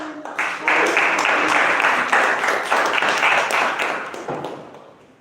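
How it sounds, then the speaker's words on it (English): Sustained applause from an audience at a Toastmasters club meeting, many hands clapping steadily and fairly close, holding loud for several seconds before tapering off at the end. "Toastmaster Kaushalya, big round of applause."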